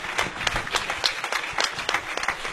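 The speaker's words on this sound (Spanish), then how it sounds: "Denle un aplauso al Señor," A church congregation claps, a lively burst of many hands with irregular sharp peaks, close and fairly loud, with no voices over it.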